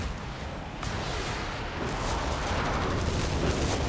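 Walking Stuka rocket barrage in Company of Heroes 3, a dense rumbling wash of overlapping rocket blasts and explosions that builds and sustains, loud and continuous without clear breaks.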